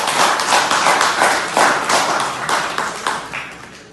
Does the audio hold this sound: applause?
yes